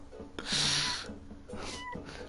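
Cartoon cats meowing in a cat yarn sumo video game within Dreams: two drawn-out mewing calls, the first louder and brighter, the second softer, heard alone at moderate distance.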